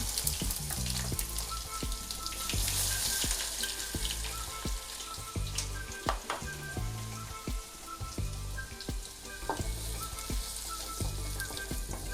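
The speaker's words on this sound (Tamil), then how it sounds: "இந்த மாதிரி வறுத்து எடுத்துக்கோங்க பூண்டு" Crushed garlic cloves and cumin seeds fry in hot oil with a dense, crackling sizzle like rain, punctuated by occasional clinks of a utensil, steady and close, with no voices.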